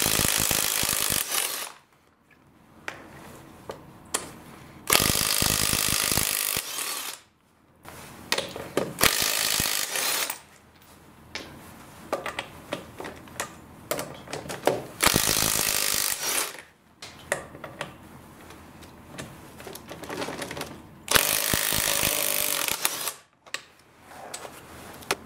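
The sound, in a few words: cordless impact wrench with 3/4 inch impact socket removing wheel nuts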